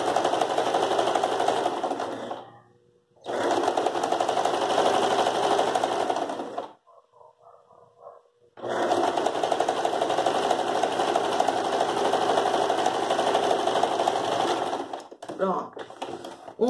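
A sewing machine stitches used denim fabric for a rug, running in long steady bursts with a brief pause and a quieter stretch in between, loud and close.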